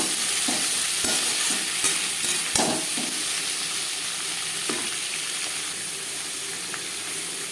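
Chopped tomatoes and onions fry in a pan for a tilapia fish curry, giving a steady close sizzle with a few stirring scrapes and clinks near the start, fading slightly toward the end.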